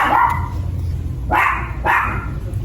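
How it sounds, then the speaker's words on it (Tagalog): A dog barks three times, loud and close, with short pauses between each bark. "Pasensya na kayo sa tahol ni Happy."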